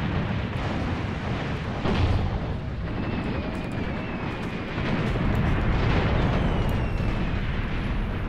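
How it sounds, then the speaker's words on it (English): Artillery barrage in the Angola 1980 Bush War scenario of Graviteam Tactics: Mius Front, a dense, continuous roll of heavy explosions and booming impacts at loud, sustained level, with some distant whistling shells. "They've dropped so much artillery on that area"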